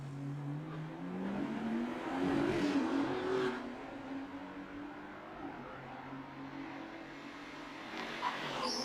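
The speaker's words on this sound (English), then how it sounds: "I believe that's the Corolla in the background as well," Car 37, a Toyota Corolla race car at the Bangsaen GP street circuit, passes in the background during practice, its engine rising and falling as it drives by at moderate distance with no one talking.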